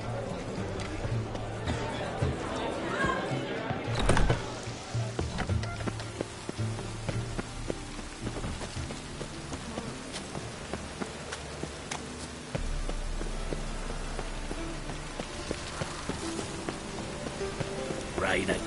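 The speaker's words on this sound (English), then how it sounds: "Rain again." Rain patters steadily in the video game The Witcher 3, with game sounds and some voices over it. A louder stretch of rain comes partway through.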